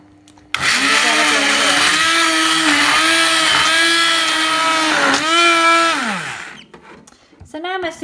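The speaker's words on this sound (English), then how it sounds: "So I'm just going to use my hand blender." A handheld immersion blender whirs loudly through a pot of homemade vegetable soup, a strained motor whine that rises and dips as it churns for about five seconds, then winds down and cuts off, followed by a short clatter.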